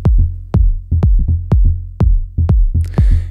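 Elektron Digitakt kick drum under polyrhythmic Digitone bass hits, the kick thumping a steady four-on-the-floor pulse while the bass notes fall off the beat, with a hissy noise swell entering near the end.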